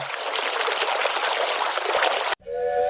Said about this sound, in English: I've got fountain of water.